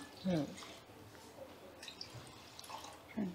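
Water is poured over soaked black kavuni rice in a vessel, giving soft splashing and trickling with a few louder plops, close and fairly quiet, with speech nearby.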